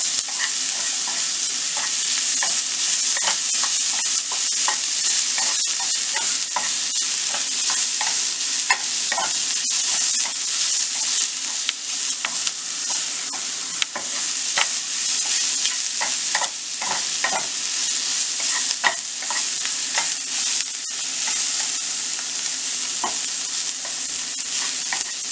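Food sizzles steadily in a pan for Gunta Punugulu, with a constant loud frying hiss and frequent scraping strokes of a spoon stirring throughout, no voices.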